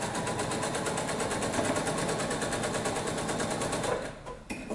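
A sewing machine stitching a crazy quilt block runs in a fast, steady whir for about four seconds, then slows and stops, heard close up and with no speech.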